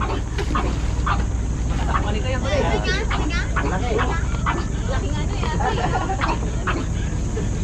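A dog barks and yips several times among a lively crowd at a Pangasinan beach outing, the barks fairly near and partly masked by steady chatter and background noise.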